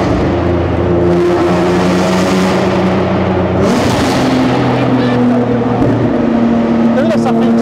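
Nissan GT-R R35 with a 1500 hp engine, revving and droning steadily with shifting pitch, loud and close, while people talk over it.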